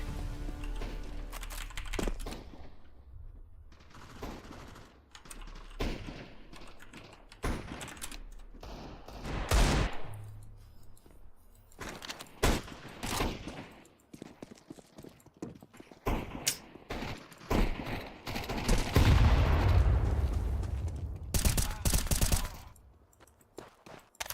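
Decoy grenade in Counter-Strike 2 mimicking gunfire, irregular bursts of sharp shot-like cracks scattered through a busy match with footsteps and other game noise.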